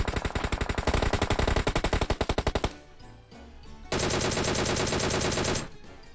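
Rapid automatic gunfire fires through a red dot sight in a battle royale video game, loud and close, with one long burst, a short lull, then a second sustained burst.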